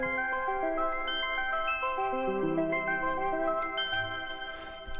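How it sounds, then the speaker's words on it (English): Bright fairy-style arpeggio from a Diva synth patch, rapid sparkling stepped notes ringing over sustained tones, steady and clear with no voices. "fairy type sounding ARP in Diva"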